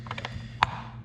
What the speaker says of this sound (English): first you'll take these two bolts off and just loosen them up